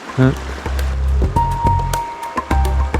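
A river rushes right beside a trail with no path, somewhere on a Ushuaia-to-Alaska journey, its low, constant wash running beneath people talking close by.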